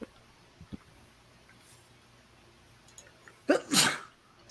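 One loud, sharp sneeze bursts out near the end after a quiet stretch with a couple of faint clicks.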